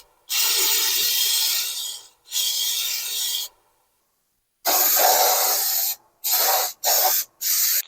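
Rust-Oleum rust reformer spray paint hisses from an aerosol can onto a washing machine in a laundry room, in loud close bursts: two long sprays, a pause, then one long and several short ones.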